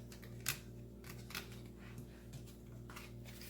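A deck of slippery tarot cards is cut by hand, giving a few crisp close card snaps and slides, the loudest near the start, over a quiet room hum.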